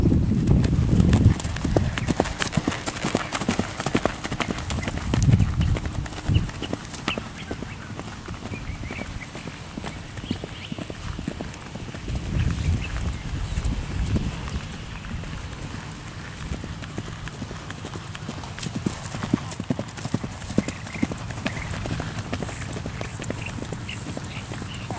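A horse canters outdoors, its hooves clip-clopping in a continuous rhythmic beat that swells and fades as it passes, with soft background noise throughout.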